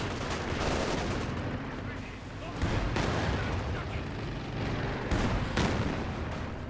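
Machine gun and artillery fire in the Company of Heroes 2 video game, a dense continuous barrage of rattling bursts and heavy booms, loud and unbroken, with a Panther tank's guns among the combat.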